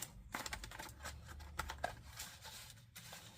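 A small box of Tribal Soul natural cinnamon incense being opened up close, with crisp crackling, scratching and rustling handling noises in quick irregular bursts.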